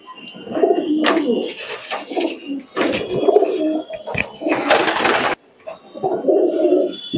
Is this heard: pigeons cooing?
yes